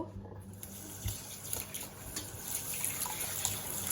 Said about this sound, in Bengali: চালগুলো আমি ধুয়ে নিচ্ছি ভালো করে পানি দিয়ে ধুয়ে